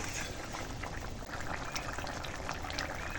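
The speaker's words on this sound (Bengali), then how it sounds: "এখানে ভেজে রাখা মাছ দিয়ে দিলাম এবার একটু ফুটিয়ে নেবো" Fish curry with fried rohu pieces simmering and bubbling in a pan, a steady close, dense boil with constant popping and gurgling throughout and no talking.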